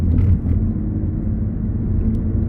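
Black 2014 MINI Countryman 1.6 Cooper with a manual gearbox and petrol engine pulls away and drives on, its low engine rumble steady and close from inside the cabin.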